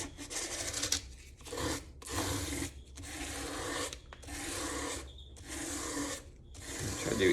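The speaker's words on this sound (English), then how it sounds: "And I'll fold the sandpaper, and let's see if you can see it here." Folded sandpaper sanding a new mandolin fretboard during leveling and dressing, heard as a series of about seven steady, close rasping strokes with brief pauses between them and no talk.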